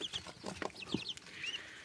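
Young turkeys and chicks in a low farmyard cage give faint high cheeps and soft clucks. The calls come scattered and quiet over light background noise, with no voices.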